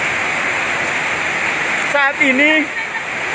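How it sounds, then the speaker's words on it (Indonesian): Fast-flowing floodwater surges through a residential area of Wolowaru after heavy rain, a steady, loud rushing hiss, with a brief voice speaking partway through. "semakin arus air semakin kencang"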